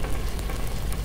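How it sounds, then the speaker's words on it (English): Fire crackling and hissing in the video game Black Mesa, a steady dense sizzle heard up close, alone without voices. "it's on fire."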